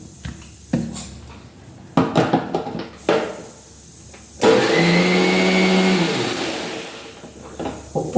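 A mixer grinder grinding boiled ingredients into a paste whirs loudly for a short burst, set between clinks and clatters of the jar and kitchen utensils.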